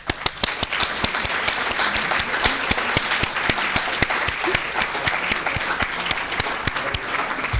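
Sustained applause from the crowd at a student union excellence awards ceremony, with sharp individual claps standing out over dense, even clapping throughout.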